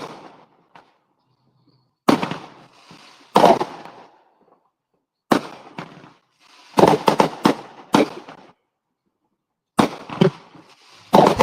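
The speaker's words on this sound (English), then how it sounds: "Let's go back to the fireworks here real quick. We got more going off." Fireworks burst outdoors in sharp, loud cracks and crackling volleys, several separate clusters broken by short silences.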